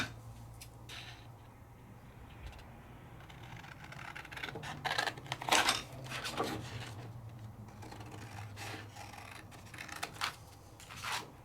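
Quiet scissors cutting a thin paper mat for a card-making project, soft snipping and rubbing strokes that come in uneven bursts, with a louder cluster of cuts near the middle over a faint low hum.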